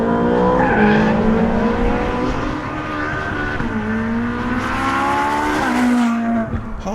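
Ferrari 458 Speciale sliding with the back end out on a test track, a loud engine holding a high note while the tires squeal continuously, sweeping up and down in pitch.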